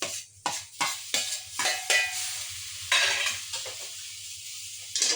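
A spoon scrapes and clinks in a pan while chilli powder, turmeric masala and tomato are stirred together for a squid roast, with repeated rhythmic strokes and a soft sizzle underneath, close and alone.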